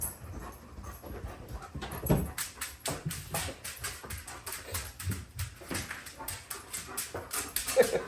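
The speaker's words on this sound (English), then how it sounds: "Big old dog joined us." A big dog near a table whimpers and pants in a steady run of soft breathy whines and snuffles, fairly faint and close, with no talk.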